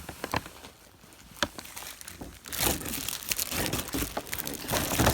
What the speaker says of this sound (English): Let me get the Christmas tissue paper in here.